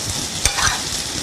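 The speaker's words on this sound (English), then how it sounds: "You're gonna add in the potato mixture now." Potato filling for samosas stirred into a hot frying pan, a brief scrape and soft sizzle with one sharp clatter of the spoon against the pan, close and alone.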